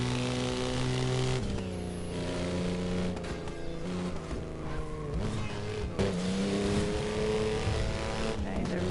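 A car in the video game Burnout Paradise drives fast near an airfield, its engine droning loudly and steadily, pitch rising and falling with gear shifts, plus brief tire squeals.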